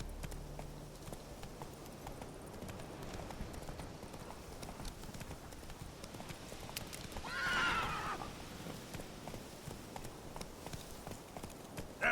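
Roach, a horse in a video game, walks with steady clip-clop hoofbeats and lets out one clear whinny midway, with faint speech at times.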